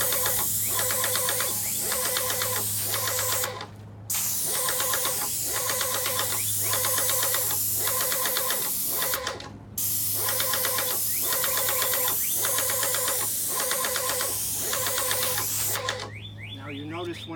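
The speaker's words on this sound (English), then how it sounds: "so same thing with painting with a sprayer." An airless paint sprayer spraying paint onto a wall, a steady loud hiss and motor hum running nearly throughout, with two brief pauses where the trigger releases.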